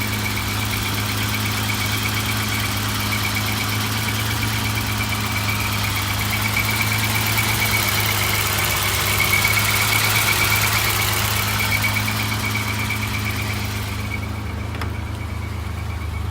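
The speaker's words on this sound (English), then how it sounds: "Let you hear the exhaust, the idle. Idles nicely." A 1987 BMW M6 E24 Sharknose idles steadily, a low, even engine and exhaust rumble that holds constant from start to finish with no revving.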